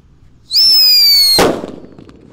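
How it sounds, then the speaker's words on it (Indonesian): A shrill whistling hiss rises briefly, then a single sharp bang from a Blackbuster firecracker wrapped in paper bursts loudly and fades into crackling echo. "di sini ada mercon Blackbuster bosku. Kita lihat reaksinya. Sudah menyala."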